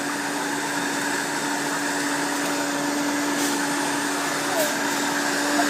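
A kitchen blender motor runs at full speed, giving a loud, steady whirring drone with a fixed hum that holds evenly throughout without pause.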